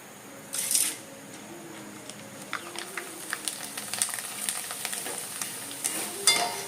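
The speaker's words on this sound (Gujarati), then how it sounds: "તો ઝીણી ભૂંગળી તળી લઈએ બધી" Thin bhungla fryums frying in hot oil for a puffed-rice chevdo, with a steady close sizzle, scattered crackles and a few sharper pops, and no voices.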